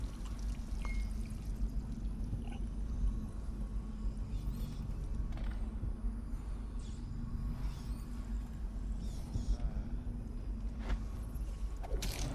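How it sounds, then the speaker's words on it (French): Water being poured or drunk in the stealth video game Dishonored, a soft steady trickling stream under quiet ambient game sounds with faint clicks and creaks, no one talking. "Buvons de l'eau."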